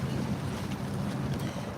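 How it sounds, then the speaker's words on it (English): The NYC Ferry passes on the water beyond a Brooklyn Bridge Park waterfront, a steady low engine and hull rumble blended with gusty wind noise and lapping waves, continuous and fairly loud without any talk. "There goes the Nyc Ferry."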